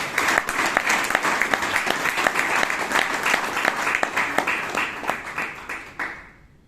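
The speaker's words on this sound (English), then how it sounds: "So please give Ratan Shetty and Jose Paul a big round of applause." Applause from a Toastmasters meeting audience in Bangalore after two speeches, steady crowd clapping with distinct individual claps standing out, lasting about six seconds before stopping abruptly.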